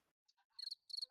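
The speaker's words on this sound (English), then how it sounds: "I hear some crickets right now." Crickets outdoors give two short, bright pulsing chirps in quick succession, faint and thin against otherwise near silence.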